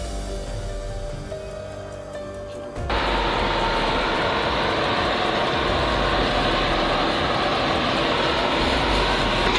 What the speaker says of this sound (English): That load's so massive, both tractors are screaming at full throttle.